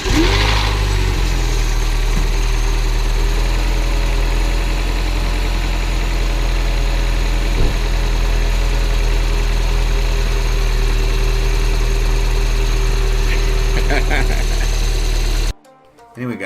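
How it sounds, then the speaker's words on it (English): Mini Cooper S R55 engine fired up after an oil catch can install: a brief start then a steady, loud, close idle that drones on until it is cut off near the end. "and then doing a test start to make sure I don't hear or see any leaks."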